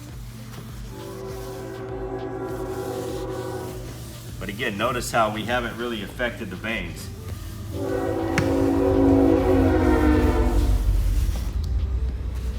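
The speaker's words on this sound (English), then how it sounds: "Sorry about the train, you know, we're in an industrial area, so we do get trains that go by." A train horn sounds in two long blasts amid a low rumbling train passing through an industrial area, while a person talks between the blasts.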